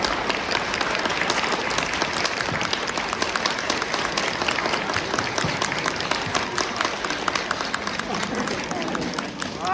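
Audience applause at a school closing festival, a thick, continuous roar of clapping from a crowd calling for an encore, with voices shouting and chattering throughout.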